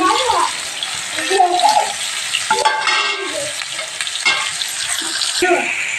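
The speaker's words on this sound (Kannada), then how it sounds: "ಪಲ್ಯ ಕುದಿಯಾಕೈತೆ ಚೋಳಿಕಾಯಿ" Chayote curry (palya) bubbling and frying in a pan, giving a steady, close sizzle with watery bubbling and occasional stirring scrapes running through the whole stretch.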